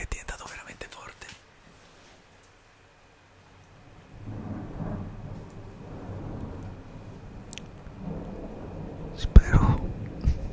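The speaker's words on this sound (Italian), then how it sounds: "temporale è diventato veramente forte" A strong thunderstorm brings a low rumble of thunder that builds midway and a steady hiss of rain that grows stronger. A voice whispers at the start, and a sharp louder crack comes near the end.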